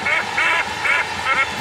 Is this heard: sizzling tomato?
no